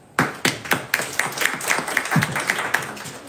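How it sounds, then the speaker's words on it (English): Audience at a vibe coding hackathon talk applauding: scattered, fairly sparse handclaps from a small crowd, steady for a few seconds, moderately near. "do applause for everyone"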